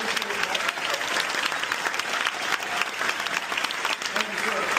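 Audience applauding at a political debate at Coastal Carolina, a dense, steady burst of clapping that fills the whole moment, close and loud.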